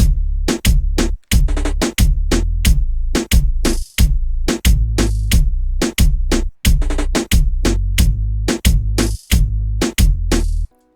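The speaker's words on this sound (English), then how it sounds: "Then I have a bass one shot that I got out of FL Cloud," In a reggaeton-style beat, a bass one-shot sample from FL Cloud thumps heavily under a dense, steady drum loop of sharp repeated hits, loud and continuous with short gaps and no voices.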